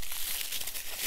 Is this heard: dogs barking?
no